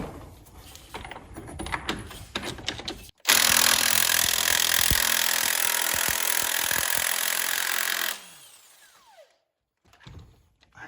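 A Ryobi cordless impact driver works on a 27 mm nut on a 1964 Datsun 320 left outside for 40 years. A loud, steady burst of around five seconds follows lighter clattering, then the sound winds down and stops.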